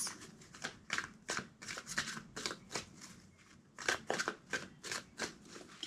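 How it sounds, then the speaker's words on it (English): A deck of tarot-style cards shuffled by hand at close range, quick bursts of riffling and flicking in irregular groups, soft and without talk. "2 more shuffles."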